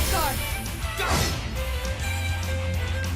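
Laura's Armor Breaker attack from Trails of Cold Steel lands as a loud crashing smash with a sweeping whoosh, set among layered game music and effects, with a voice calling out over it.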